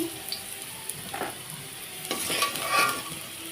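Potatoes sizzle softly in oil in a pan with occasional scraping and stirring, growing a bit louder and busier toward the end.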